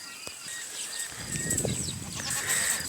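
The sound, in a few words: sheep bleating on a sheep farm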